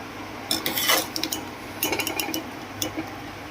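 A metal spoon scoops masala from a pot into rice for chicken dum biryani, making two bursts of sharp clinks and scrapes against the cookware, close and fairly quiet with no voices.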